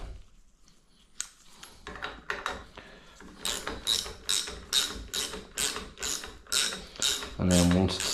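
Fast ratcheting clicks from a socket wrench loosening the 32mm top cap of a Fox 38 mountain bike fork, a close rhythmic run of sharp ticks after some quieter handling noise.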